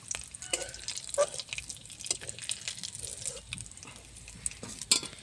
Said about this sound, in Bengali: কটা বড়ি দিয়ে দিলাম, মাছের তেলই বড়িটা ভেজে নিলাম।